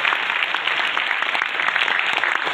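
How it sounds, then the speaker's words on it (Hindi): An audience at a motivational seminar claps steadily, a dense, continuous patter of many hands at moderate volume, with no talk over it. "ताली बजाओ बढ़िया से"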